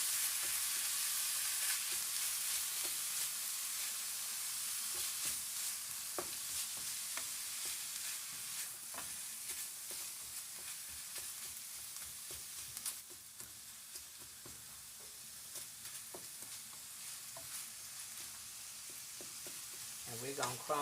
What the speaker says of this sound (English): And now we are going to crumble this up like so. Sausage and the ground beef together with these onions.